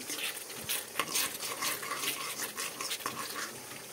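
Spices sautéing in a pan while a utensil scrapes and taps against the metal in quick, uneven strokes over a soft frying hiss, close by and without speech.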